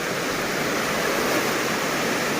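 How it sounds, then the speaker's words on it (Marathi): Water from a tank pours out in a steady, continuous rush close by in a rural forest setting, a dense, unbroken roar with no voices. "चोवीस तास कंटिन्यू पाणी चालू असतं"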